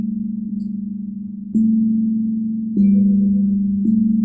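Steady low tones for an evening meditation session, each held pitch humming alone and then stepping to a new note every second or so, with no talking.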